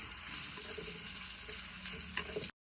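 Homemade black chilli powder sautés in a hot pan with a constant close sizzle and faint scraping stirs, ending abruptly.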